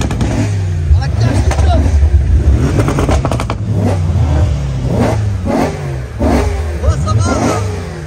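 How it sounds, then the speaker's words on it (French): A big naturally aspirated V8 car engine revs at a night car meet, loud throaty rises and falls repeating several times, with people talking over it. "Derrière, il y a du gros V8 atmosphérique là qui nous crie dessus."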